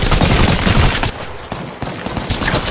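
Video game shootout gunfire crackles in rapid, dense bursts, loud and close, with brief gaps between volleys.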